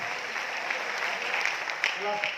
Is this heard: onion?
no